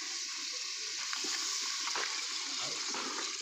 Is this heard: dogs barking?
no